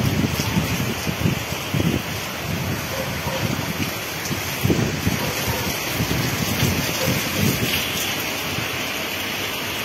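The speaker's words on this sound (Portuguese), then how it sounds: "Chuva de vento, olha o vento." Heavy windy rain pours over a street in Patos, Paraíba, as a steady dense hiss with gusty swells and irregular low thumps of wind buffeting the microphone, continuous for about ten seconds.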